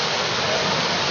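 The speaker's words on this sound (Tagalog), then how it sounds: "Ilog na naman ito guys." A river in Palawan rushes steadily nearby, a dense, unbroken wash of flowing water close and loud.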